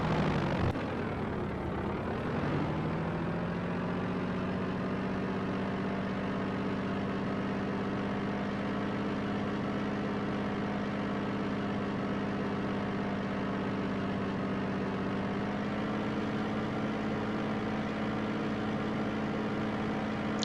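Brewster B239 fighter engine in the IL-2 Sturmovik flight game winding up from idle to a steady, loud drone for takeoff, holding a constant pitch with a slight rise near the end and no talk.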